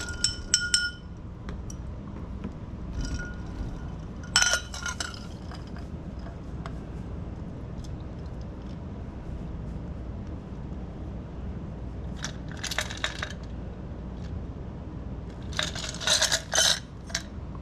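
A rye-based cocktail stirred with ice in a glass, heard as sparse, light clinks and taps that come in small clusters against a quiet background, close up and with no speech.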